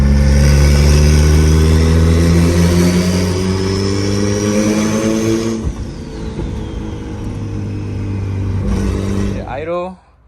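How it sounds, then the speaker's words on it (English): Acura Integra engine running after a radiator install, loud and close, climbing through revving pulls, dipping back to idle, then pulling again before shutting off. A voice talks at points. "Idle, and then I did some pulls, let it idle again, and I did one more pull"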